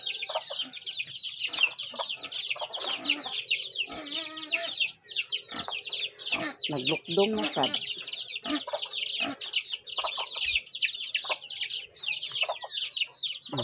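Chickens cluck busily and continuously close by, with someone speaking briefly over the flock's chatter.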